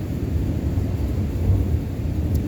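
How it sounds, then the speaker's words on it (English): Low, steady rumble of thunder during a lightning storm, a continuous deep roll with no distinct crack, fairly loud and close throughout with no voices. "There's some thunder. Hear that?"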